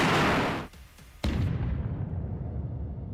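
An M777 howitzer fires once, a loud sharp boom about a second in with a rumbling tail, following an earlier booming rumble, with no talk.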